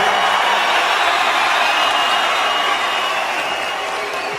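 A packed Cage Warriors MMA crowd cheering and applauding, a dense continuous roar of clapping and shouts that stays loud and easing slightly toward the end, with faint talk beneath.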